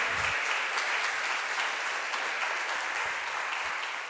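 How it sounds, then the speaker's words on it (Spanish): A church congregation claps continuously in dense, sustained applause, steady and fairly loud throughout. "Les damos un aplauso de bienvenida."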